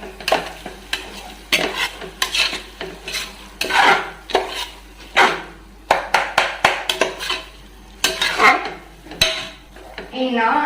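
Mint and biryani masala sauté in a pan as a spatula scrapes and clanks against the metal in quick repeated strokes over a soft sizzle, close and loud with brief pauses between bursts.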